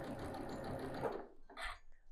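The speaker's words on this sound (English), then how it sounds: "we're going to go ahead and stitch these" A sewing machine stitches quilt block fabric in a quiet room, running in a fast continuous whir that stops, followed by a brief short burst of stitching.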